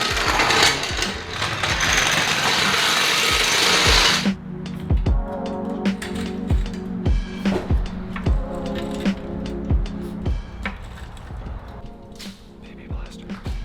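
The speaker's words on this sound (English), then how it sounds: "So we're gonna jack up the car again" Rapid mechanical ratcheting clicks of a car jack raising a Porsche Cayman S, in a steady rhythm, loud and close, after a few seconds of broadband hissing penetrating-oil spray, with a metallic tool working throughout.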